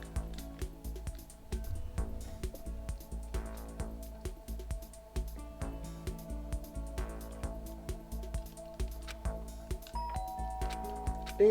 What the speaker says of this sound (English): Ding dong, sounds like someone's here.